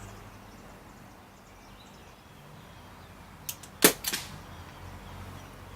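Crosman 1077 CO2 air rifle fitted with a silencer: a faint low hiss of background, then a soft snap followed by a sharper crack and a short rattling tail, quiet and close.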